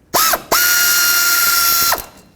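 Mechanical whirring bursts from a tool working an 8mm bolt on a 1997-2003 Ford F-150 ABS wire clip: a short burst, a pause, then a sustained steady whine of about a second and a half, close and loud.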